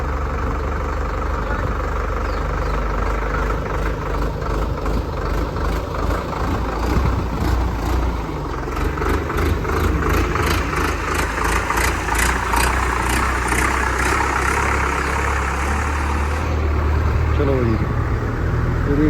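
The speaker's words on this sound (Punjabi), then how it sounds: "ਬਾਕੀ ਤੁਸੀਂ ਆਵਾਜ਼ ਚੈੱਕ ਕਰੋ ਐਨ ਪੱਧਰੀ ਇੱਕ ਲੈਪ ਇੰਜਨ ਦਾ ਚੱਲ ਰਿਹਾ" A four-cylinder Swaraj 855 diesel tractor engine idles steadily nearby, a low rhythmic chugging that stays even for the whole stretch.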